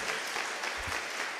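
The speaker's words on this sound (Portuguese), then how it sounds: "Você pode aplaudir a Jesus" A church congregation applauds, a dense steady wash of many hands clapping together, fairly close and even throughout with no voices standing out.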